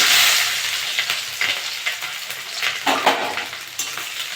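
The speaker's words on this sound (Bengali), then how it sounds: "একটু ভেজে দেবো পেঁয়াজটা" Onions and green chillies sizzle loudly in hot oil with panch phoron while a utensil stirs them, giving irregular scraping bursts over the constant frying hiss.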